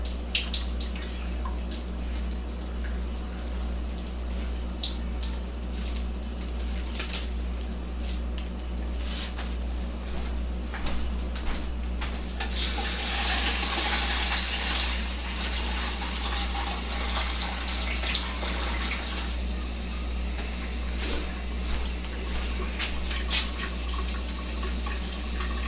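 Water is poured into a soup pot of potato, root vegetables, ham and mushrooms, a steady splashing rush that swells noticeably louder about halfway through and continues close and alone to the end.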